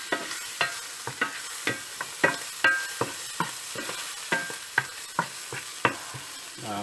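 Steak stuffed with oysters sizzles steadily in a pan while a utensil scrapes and taps it in a slow, uneven rhythm. It is moderately close, with no voices.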